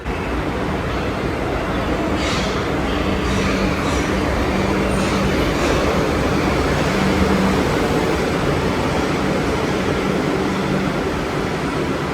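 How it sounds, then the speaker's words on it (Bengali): Kolkata metro train pulling into an underground station, a steady loud rumble and roar of the approaching cars that holds throughout with faint high squeals over it. "এক্ষুনি আসবে আমাদের মেট্রো ওই তো বলতে না বলতেই চলে আসছে"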